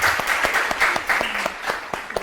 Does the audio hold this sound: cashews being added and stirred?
no